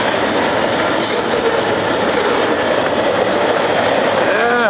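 A train rolls over a bridge in upstate New York, a dense steady rumble and clatter of wheels filling the whole stretch, loud and continuous with no pause.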